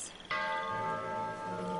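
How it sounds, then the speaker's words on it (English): A doorbell in Fallout 76 rings out as a sudden bright chime, then sustains and slowly fades as a ringing tone with a faint low hum beneath it. "Hey, look at my doorbell."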